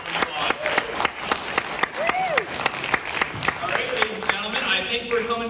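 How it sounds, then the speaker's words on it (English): Scattered audience clapping at a live theatre show at the Stirling Festival Theatre, individual claps spread over a few seconds with voices and other sounds mixed in. "So give yourself a big round of applause."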